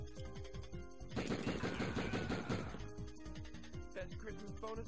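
Rapid machine gun fire in the Die Hard Trilogy video game, a dense burst of rattling shots lasting over a second amid looping game music and a few scattered effects.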